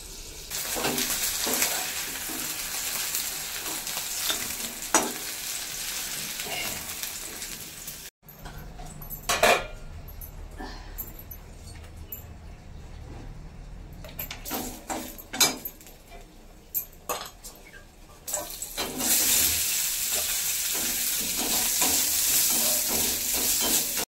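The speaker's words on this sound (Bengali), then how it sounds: "আগে ভেন্ডিটা ভাজা হয়ে যাক, তারপর দেখছি।" Okra being fried in a pan gives a steady, close sizzle and stirring that runs through most of the stretch, easing off in the middle where scattered clinks and scrapes take over, then returning loud and continuous.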